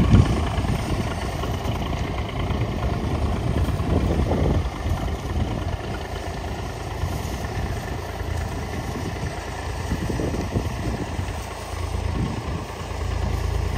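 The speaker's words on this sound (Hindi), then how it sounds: "ये देखिए इस तरह दो दो मेड़ी लेके जा रहा है ट्रैक्टर, क्योंकि आलू उखाड़ रहा है।" A tractor engine running steadily while pulling a potato digger through two rows in a field, a continuous low mid-pitched drone with mild vibration, fairly close and alone without talk.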